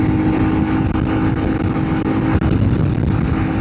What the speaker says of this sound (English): Now I'm going to test the bike on the Interstate.